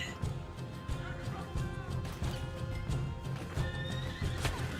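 Horse neighing in Red Dead Redemption 2, with repeated whinnies over steady clip-clopping hooves, dense and fairly loud throughout with no talk.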